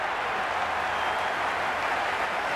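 Dense, steady crowd roar and cheering from a packed stadium in the Cricket 2026 video game during a Mumbai Indians versus Rajasthan Royals match, a constant loud wash of applause with no pauses.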